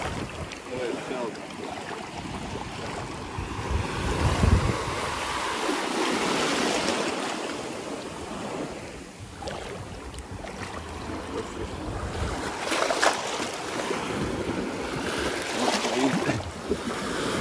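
Ocean surf on the shore at Egmont Key, Florida, washes and breaks in repeated rushing swells with wind noise, a louder crash building midway, and faint voices now and then.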